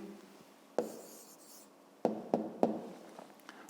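Pen scratching on paper as an answer to a fifth-grade maths exercise is written down; a few short scratchy strokes and taps, quiet and close, with no talking.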